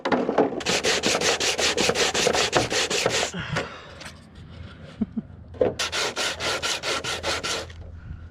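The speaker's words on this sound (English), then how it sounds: "a lot of sanding happened on this one" Bondo filler on a fiberglass car body kit is sanded by hand in rapid back-and-forth rasping strokes, two long bursts separated by a quieter pause with light handling noises.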